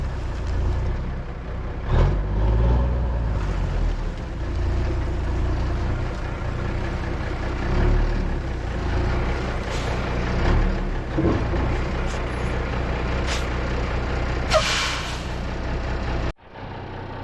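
A 1980 Autocar semi truck idling and running nearby, a steady low diesel rumble with occasional hisses and clanks, ending in a sudden cutoff.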